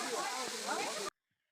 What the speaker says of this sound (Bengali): দেখো কত উঁচুতে জলটা পড়ছে